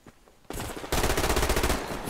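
Automatic weapons firing in the online shooter Survarium: a rapid sustained burst starts abruptly, then swells into a louder, dense stream of shots that runs to the end, close and intense.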